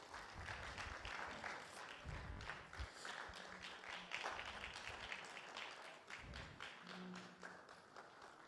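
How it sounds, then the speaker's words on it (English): A small audience at a temple discourse gives scattered, faint applause, uneven claps rising and thinning over several seconds with little talk. "If we could all have a round of applause as he comes in."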